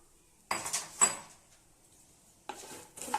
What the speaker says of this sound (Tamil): இப்போ தாமரை விதையை இதில் சேர்த்துடலாம்